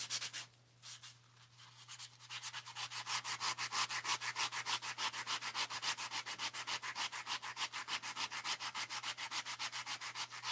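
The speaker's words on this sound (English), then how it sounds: "I'm using a more harder sandpaper. Because I've got so many layers of this gesso on it." Sandpaper scrubs hard and rhythmically over thick layers of gesso coating a cloth doll, a steady run of fast back-and-forth strokes, close and loud, with a low steady hum underneath and no talking.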